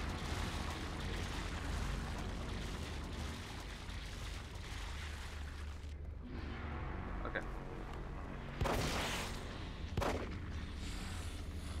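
Two gunshots ring out in the horror video game The Evil Within, sharp booms standing out over a rumbling, noisy game soundscape.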